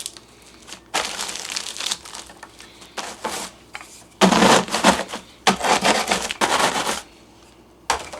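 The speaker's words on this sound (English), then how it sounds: "Let's get these cookies crumbled up." Peppermint cookies are crushed by hand in loud, crunchy bursts of crumbling and crinkling, several separate rounds with brief pauses between them, close and dry.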